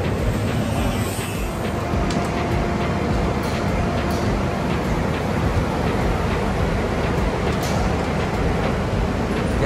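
The Garib Rath Express pulls away from the station with a steady broadband rumble of a moving train. The rumble runs continuously at a fairly even level throughout, with a few faint clicks on top.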